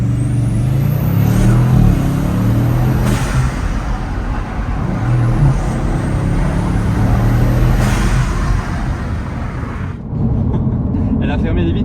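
A Bugatti Chiron 110 ans edition runs loud and close from inside the cabin, a steady deep engine drone with whooshing intake and turbo sounds and sharp whistles, while people talk over it.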